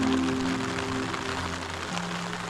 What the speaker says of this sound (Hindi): और उसके बाद आई बारिश